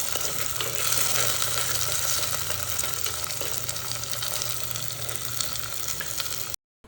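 Curry leaves, green chillies, ginger and garlic frying in oil, giving a dense, steady sizzle that holds level throughout and then cuts off abruptly at the end.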